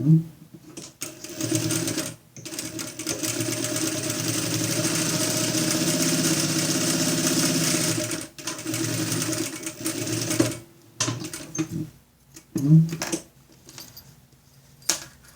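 A sewing machine stitches through fabric and batting for a school pencil case, running in a long steady whirring burst, then shorter runs broken by pauses and a small metallic clink, close and clear.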